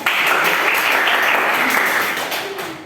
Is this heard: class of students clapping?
yes